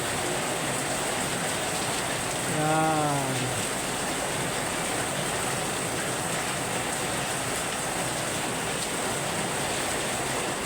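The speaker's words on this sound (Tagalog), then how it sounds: "bigla bumuhos ng malakas ng ulan" Heavy rain pours steadily at night in Dasmariñas, Cavite, a dense continuous hiss, while a brief spoken word and a short tonal sound rise early on.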